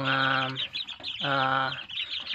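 Chicks in a coop peep and cheep in two bursts of high, clear calls, close by with short gaps between, and no talking.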